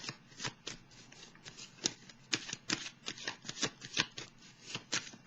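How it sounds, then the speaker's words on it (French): Tarot cards are handled and drawn from the deck, giving a run of quick, crisp flicks and riffles in uneven bursts, close and fairly quiet. "Je vais piger une autre carte ici."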